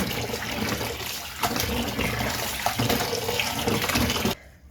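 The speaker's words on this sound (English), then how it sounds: "so now we are rinsing once more to get that starch all out" Running tap water splashes steadily over grated potatoes being rinsed in a sink to wash out the starch, continuous and close, stopping abruptly at the end.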